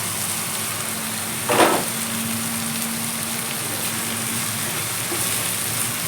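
Koyyakura stems and moong dal seasoning sizzle steadily in a pan, a close, even hiss with one brief louder burst of stirring partway through.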